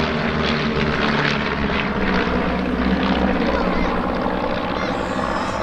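Two aeroplanes fly in formation at the Old Buckenham Airshow 2025, their steady propeller engine drone filling the air, with a commentator's voice talking over it.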